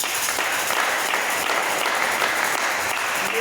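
A church congregation breaks into loud, sustained applause, a dense, even wash of clapping from many people filling the hall.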